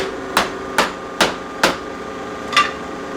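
A hammer strikes the sole of a brass wire boot five times: sharp, evenly spaced whacks up close, with a short pause before the last one, over a quiet background.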